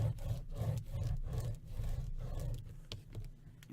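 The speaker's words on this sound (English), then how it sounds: "So I'm just going to burnish that down." Paper being burnished flat for a photo album page, heard as a run of close, steady rubbing strokes with a dry scraping texture that tapers off toward the end.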